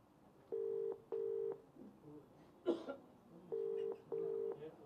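A phone call going unanswered, with paired steady ringback tones repeating at a regular rhythm, two pulses, a pause, then two more, over faint background noise and a brief muffled voice in the gap.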